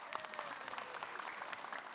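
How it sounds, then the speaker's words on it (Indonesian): Audience applause fills a studio during an Islamic religious talk show, a dense, steady patter of clapping heard alone. "Tepuk tangan dong."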